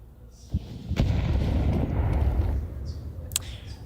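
Gunfire from a Counter-Strike esports match at IEM Cologne 2024, with players on Kevlar and upgraded pistols: a couple of sharp distant-sounding shots and booms over a steady crowd-and-game rumble, with faint talk underneath.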